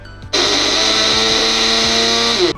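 A mixer grinder roars to life with a sharp start and runs loud and steady for about two seconds, briefly pulsing as it coarsely breaks up dates and jaggery for ragi java.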